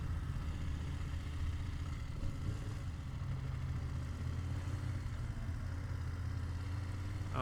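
A 2025 BMW F900GS Adventure motorcycle engine runs steadily at low revs, a close, continuous rumble with no talk over it, in cold weather.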